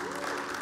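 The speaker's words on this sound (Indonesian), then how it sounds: "jangan terlalu keras nih tepuk tangannya" A church congregation applauds during a sermon, with dense, moderately quiet clapping running evenly through the moment and faint voices mixed in.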